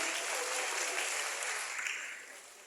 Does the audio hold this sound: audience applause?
yes